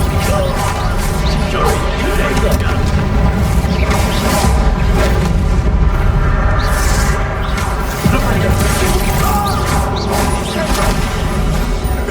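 Confringo explosive spell blasts in the Hogwarts Legacy video game, loud dense booms and crashes in constant combat with whooshes and music, a voice calling out spell names throughout.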